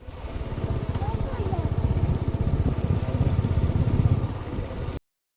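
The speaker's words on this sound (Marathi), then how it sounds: "आलो आम्ही शेतामध्ये आणि ट्रॅक्टर चालू आहे" A tractor engine in a farm field chugs steadily and loudly nearby, its rapid rhythmic thumping continuing throughout before stopping abruptly.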